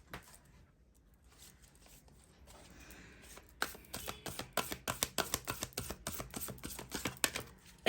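Oracle cards being shuffled by hand, a soft rustle that builds into a quick run of crisp, close riffling flicks, fairly quiet with no talk.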